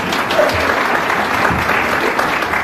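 A studio audience at a superhero-themed contest show applauds a contestant, with steady, full clapping that carries on without a break.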